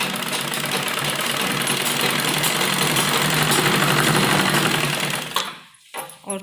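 Sewing machine stitching the side seams of a heavy-size kurti made from printed fabric, a loud steady run of rapid needle clatter that stops abruptly near the end, followed by brief handling noise.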